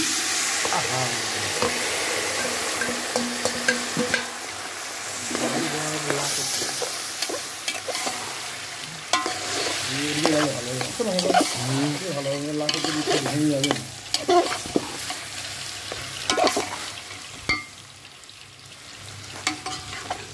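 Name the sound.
vegetables frying and being stirred in oil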